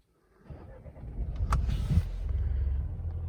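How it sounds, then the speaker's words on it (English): Mercedes A Class W177 engine starting: a short starter whir, then a rising low rumble that settles into a steady idle, close by, with no voices. "Do the check by starting the car"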